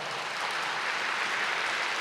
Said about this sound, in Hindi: अब आपको फिर ताली बजानी चाहिए